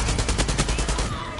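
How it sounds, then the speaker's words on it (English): Rapid gunshots in Far Cry 6, a tight close burst of evenly spaced automatic fire that rings out over a second before tailing off into ambient hum. "Shoot that person right there"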